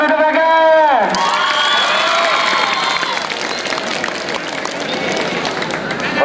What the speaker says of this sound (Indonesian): Beri tepuk tangan untuk Bagas